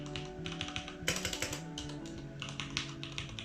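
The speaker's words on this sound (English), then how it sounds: "We'll do a sound test on the keys." Rapid, steady typing on the mechanical keys of a Corsair K63 wireless lapboard keyboard, close and clear, with one louder burst of clacks partway through and no talking.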